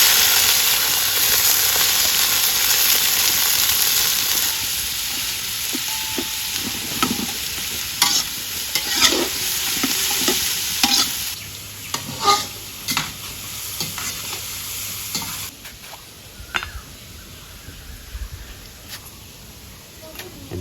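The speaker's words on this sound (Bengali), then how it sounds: "এখন আমরা গরম তেলের মধ্যে রসুন, পেঁয়াজ আর কাঁচা মরিচ আদা নিয়ে ভালো করে" Garlic, onion, green chili and ginger sizzle and fry in hot oil as they are stirred, a steady loud hiss with scraping stir strokes that thins out later, while a person talks over it.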